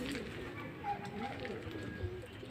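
A racing pigeon just home from a derby race coos softly in its loft while someone talks over the low, murmuring calls.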